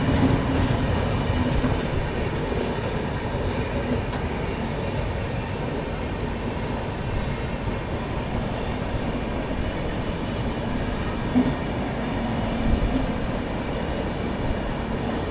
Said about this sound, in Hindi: गाजियाबाद का WAP7 लोकोमोटिव के साथ चल रही है अवध असम